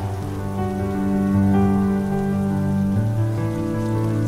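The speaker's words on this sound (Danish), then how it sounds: "Hvorfor sidder du i regnen?" Rain falls steadily around a person sitting outdoors, a soft continuous patter layered over a sustained low musical backdrop that swells slightly midway.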